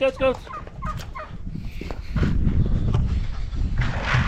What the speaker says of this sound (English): Hey, turkey. Hey, gobble. Gobble.